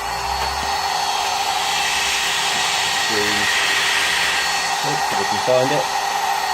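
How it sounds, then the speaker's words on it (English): CNC spindle motor running at 400 Hz, a steady high-pitched whine with broad airy noise held at constant level, while someone speaks briefly over it. "And the spindle is running quite nicely. It's not too loud,"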